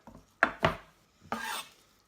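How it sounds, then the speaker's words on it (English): A knife chopping herb stalks on a board for a goose curry, two quick close cuts followed by a longer scraping stroke, crisp and alone with no talk. "So give that a good chop up."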